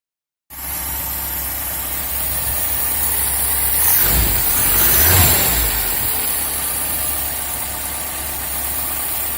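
A Volvo 343 car engine fires up and settles into a steady idle, with a brief swell around the start. The mid-pitched running continues close and fairly loud with no voices.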